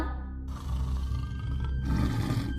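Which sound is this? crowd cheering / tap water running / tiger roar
tiger roar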